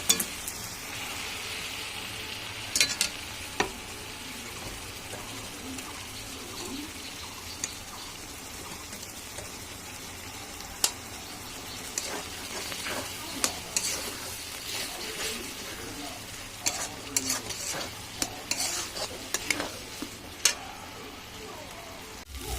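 Loach fish curry simmers and sizzles in a pan, gently stirred through the spice mix. A soft, steady frying hiss runs under repeated scraping and clinking of a spoon against the pan, close by, without voices.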